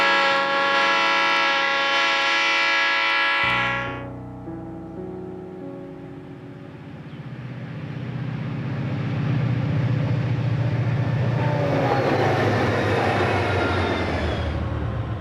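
A northbound Public Service Company of Colorado unit coal train passes through the old Rio Grande rail yard on the main line, a loud tonal horn-like blast cutting off into a rising, rumbling roar of heavy cars rolling close by.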